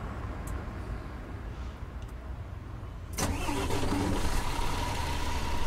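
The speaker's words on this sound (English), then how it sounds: "Turn the engine on." Coach bus diesel engine starting in Fernbus Simulator, a sudden broadband catch at about three seconds followed by a steady, louder idle rumble over low background hum.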